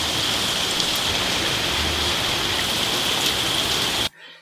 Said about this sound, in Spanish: está lloviendo caleta